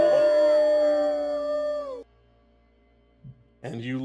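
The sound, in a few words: wolves howling sound effect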